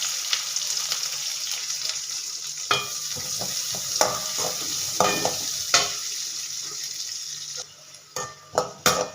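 Cinnamon, cumin and onion fry in hot oil in a kadai, giving a dense close sizzle broken by stirring scrapes, then some sharp clanks once the sizzle drops away near the end.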